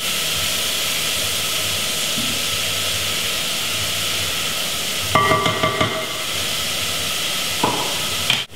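Onions dropped into hot oil, a constant bright hiss and sizzle close to the pan, broken midway by a few clattering stirs and another brief clank near the end.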